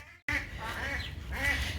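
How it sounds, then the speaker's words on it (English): A broody hen duck quacks in a run of harsh, repeated calls close by, loud and continuous over low background rumble after a brief silent start. "I have a broody duck, and she's not very happy right now."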